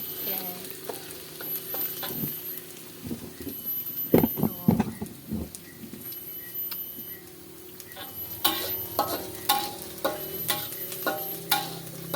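Oil sizzles steadily as shallots fry in a pan until crisp, with intermittent scraping and clinking of a utensil stirring against the pan.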